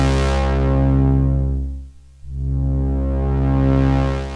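A sustained tone from a Taiga analog synthesizer runs through its variable state filter as it sweeps steadily down, nearly closes to a dull low hum, then opens back up bright. The tone is loud and solo, with no speech.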